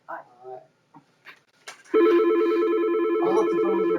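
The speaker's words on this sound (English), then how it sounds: "Oh, look, the phone's ringing." A telephone rings loudly and steadily during a village board of trustees meeting, a sustained warbling electronic tone that starts abruptly after a few brief spoken words and keeps sounding to the end.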